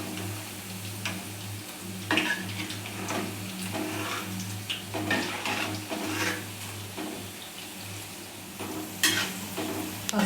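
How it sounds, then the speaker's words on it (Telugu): Cabbage pakodi fries in hot oil, a steady bubbling sizzle with occasional ticking and scraping of a spoon as the fritters are turned, with no talking. "పకోడీ కొంచెం వేగాక తిప్పి వేసుకున్నామండి."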